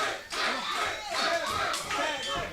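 Wrestling crowd at a tag team match roaring and shouting in waves, repeated loud bursts of cheering voices filling the arena for a few seconds.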